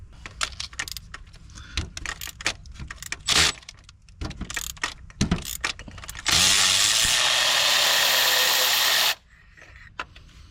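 Spark plugs being removed from a 3.5L V6 engine in a 2011–2020 Toyota Sienna: close metallic clicks and clinks of tools and sockets, then a steady loud mechanical whir for about three seconds before it cuts off.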